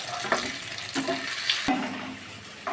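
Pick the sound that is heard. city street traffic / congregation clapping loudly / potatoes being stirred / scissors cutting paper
potatoes being stirred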